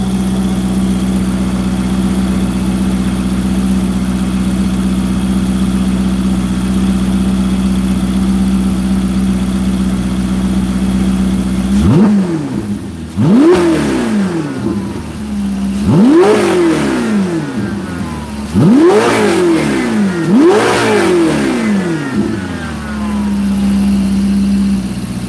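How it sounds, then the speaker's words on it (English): A Ferrari 488 GTB turbocharged engine idles steadily, then five sharp revs rise and fall in quick succession, loud and close, before settling back to idle. "Could you guys hear the turbo noise better that way?"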